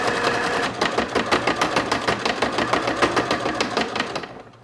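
A sewing machine runs steadily for about four seconds, tacking the waist seam of a patchwork garment with a fast, even stitching rhythm, close up and alone before it winds down.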